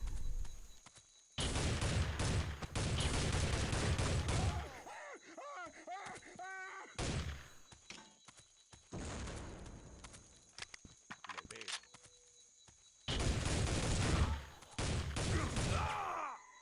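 Rifle gunfire in the shooter game Soldier of Fortune 2 comes in loud, dense bursts separated by quieter gaps, with other game noise filling the pauses.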